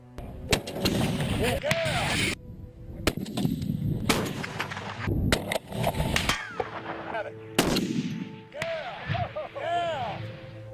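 .50 caliber Barrett rifle made in Tennessee: several loud, sharp gunshots spaced a second or two apart, each ending in a ringing echo, with voices in between.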